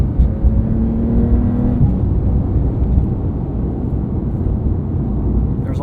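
A 2022 Porsche 911 Carrera with the PDK transmission accelerates, its engine a loud, steady droning roar heard from inside the cabin, with a brief rising whine early on and no talk over it.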